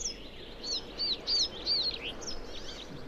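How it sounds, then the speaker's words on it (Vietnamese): Birds sing at dawn in an arctic forest in spring, a series of bright, high chirps and short whistled phrases in bursts, fairly close and clear over a faint background hush. "chim chóc hót vang như để ăn mừng chuỗi ngày đẹp trời sắp tới"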